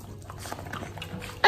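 A dog eats a piece of homemade bun indoors, with soft, faint chewing and mouth sounds throughout and a brief louder noise at the very end.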